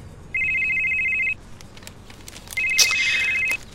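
A telephone rings in two bright electronic bursts, each about a second long with a gap between, in a Bengali detective audio drama set in a morning kitchen scene.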